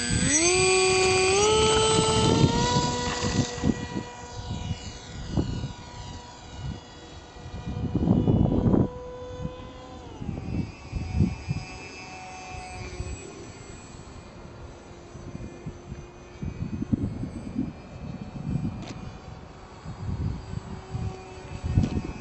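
An RC Sky Surfer model plane fitted with LEDs on a test flight, its electric motor a steady high whine that slides in pitch as it climbs and passes, with wind buffeting and rumbling throughout.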